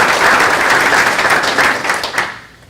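Round of applause from a college symposium crowd for the Net Impact MBA and Delta Sig student chapters, full and steady clapping that tapers off toward the end.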